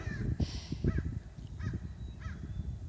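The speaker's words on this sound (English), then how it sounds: "Hear the birds?" A few harsh bird caws, crow-like, ring out about once a second against a low outdoor rumble at an RV park in Idyllwild, moderately close.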